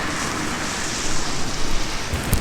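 Steady, dense patter of rain with a broad hiss, growing slightly louder partway through, with a couple of brief sharper knocks near the end.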